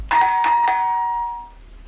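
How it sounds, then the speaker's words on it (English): Loud electronic doorbell at a house: three quick chime strikes, then a clear ringing tone that fades out over about a second, heard alone. "someone rings the doorbell."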